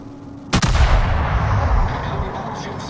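A naval gun salvo booms in the World of Warships video game, opening with a sharp, loud blast and rolling into a long rumbling decay, with faint game sounds after.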